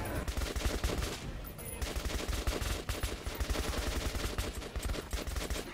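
Rapid automatic gunfire from the video game Metro 2033 rattles out in a dense, continuous stream of sharp shots.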